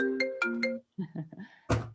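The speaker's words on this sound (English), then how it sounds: "Scott, you're ringing." A phone rings during an online video meeting, a bright repeating ringtone melody that plays close and clear, then briefly stops before another burst of tones.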